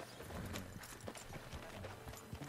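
Horse hooves clip-clop in Red Dead Redemption 2, a quick steady rhythm of hoofbeats at moderate distance over continuous game ambience, with no speech.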